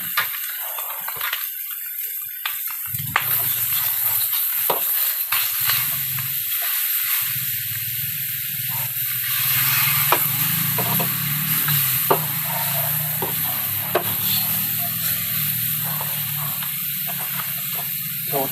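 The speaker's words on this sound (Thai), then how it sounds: "เราก็จะใส่เนื้อลงไปเลยนะครับอันนี้ เนื้อลงไปเลย" Steady loud sizzling of meat frying in a hot pan, with occasional crackles and pops throughout, no talking.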